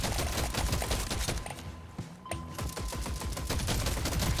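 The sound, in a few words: guns firing at aliens in a video game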